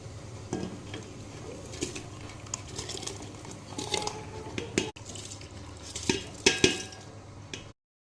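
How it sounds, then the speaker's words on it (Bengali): Lentils and rice poured into boiling water in a pot for khichuri, soft rattles and clinks of utensils over a faint simmering bubble, close and intermittent. "জলটা ফুটে গেছে, এবার ডাল চালটা দিব।"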